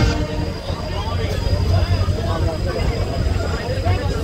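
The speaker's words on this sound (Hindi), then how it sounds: "तो अभी हमारा ट्रेन भी छूट चुका है हमारे प्लेटफॉर्म नंबर 2 से।" A train pulls away from platform 2 at a railway station at night, giving a continuous loud rolling rumble with a steady high whine above it, with crowd noise and chatter faintly underneath.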